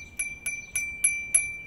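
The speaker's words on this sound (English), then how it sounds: "Bells." A bell on a used bicycle in good condition, struck five times in a steady, quick rhythm with bright, short rings, close and fairly soft.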